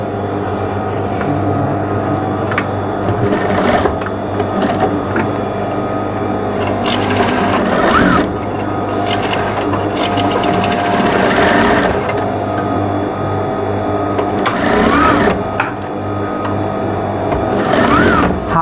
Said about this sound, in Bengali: আমরা সেলাই করে নিচ্ছি।